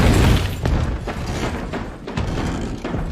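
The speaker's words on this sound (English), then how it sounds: "a sudden banging sound came from outside the door" Sudden loud banging on a door, a series of heavy thuds and knocks arriving in quick succession, close and forceful with no talk.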